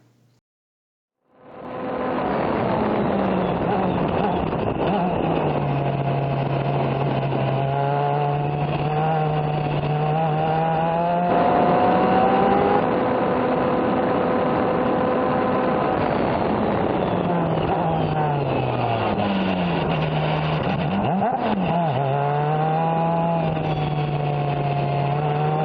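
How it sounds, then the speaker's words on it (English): Race car engine on a lap at Auto Club Speedway, a loud continuous drone with pitch rising and falling through shifts and dips that suggest downshifts, heard from inside the car. "right in here about lap 6 or 7 is where I start having problems downshifting, and you won't hear those blips."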